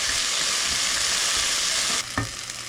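Onions frying over high heat in a pan, a dense, loud, continuous sizzle that drops suddenly partway through, followed by a couple of soft knocks.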